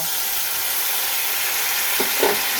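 Fish curry with rohu sizzling in hot oil in a pan, a continuous dense crackling hiss with a couple of soft stirring scrapes near the end, close up and without talk.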